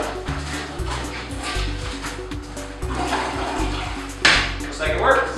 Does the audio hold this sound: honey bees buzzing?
no